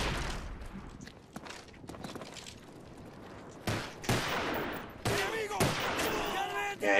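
Gunshots in the video game Call of Duty Black Ops, a handful of sharp, loud cracks rising from quieter background movement, with a cluster of shots near the end.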